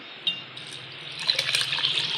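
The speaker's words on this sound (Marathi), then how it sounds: "आणि नंतर मी उडदाची डाळ पण पाणी ओतून घेत आहे." Water poured onto urad dal set to soak for idli batter, a short steady splashing pour that grows fuller toward the end, close and alone.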